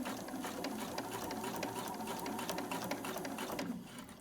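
A sewing machine runs steadily, stitching in the ditch along a quilt seam, with a close, continuous rapid mechanical chatter that stays even throughout and eases off slightly at the end.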